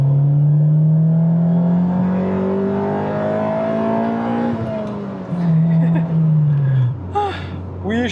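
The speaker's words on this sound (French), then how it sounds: "Mais allez, un petit VTEC." A Honda Civic VTEC engine revs hard and loud, the steady climbing note holding for several seconds before falling back and easing off toward the end.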